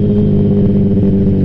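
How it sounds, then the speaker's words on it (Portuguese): A three-cylinder street motorcycle with a straight-piped exhaust that still carries a catalytic converter runs loud and close, a dense, steady engine roar with little change in pitch. "Um três cilindros diretão incomoda muita gente."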